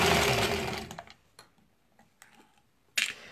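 A sewing machine piecing a quilt runs briefly in a fast, close mechanical whir that stops after about a second, followed by a few quiet clicks and a short burst near the end.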